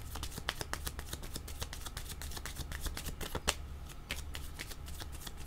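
Tarot cards riffled and shuffled by hand in a quiet room, a dense, continuous stream of soft papery flicks and snaps, close and fairly faint.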